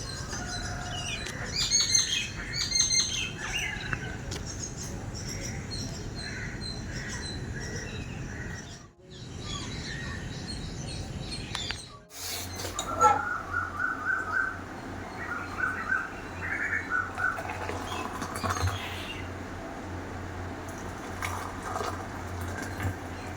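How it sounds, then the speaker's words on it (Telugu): Birds chirp and tweet repeatedly outdoors, several calls overlapping in a lively morning chorus over a low steady background hum. "బయట ఆ బర్డ్ చీపింగ్ సౌండ్స్తో పొద్దున్నే చాలా బాగుంటుంది తెలుసా"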